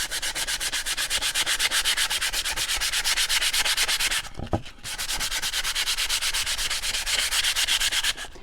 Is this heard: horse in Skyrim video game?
no